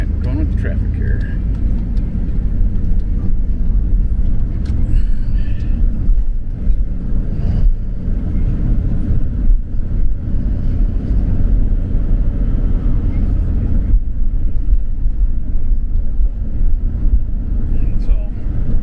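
Passing car traffic heard from inside a moving vehicle, a steady low road rumble and engine drone running throughout, with brief swells as other vehicles go by and a person talking over it at times.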